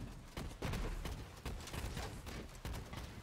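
A Borderlands 3 Scourge rocket launcher fires in a video game, with loud repeated thumping blasts in quick succession over steady battle noise and no talking.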